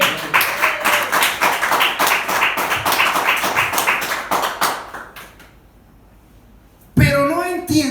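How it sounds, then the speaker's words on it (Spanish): A church congregation applauds in a burst of dense clapping that fades out after about five seconds, followed by a short silence before a voice comes back. "Vamos a aplaudirlo."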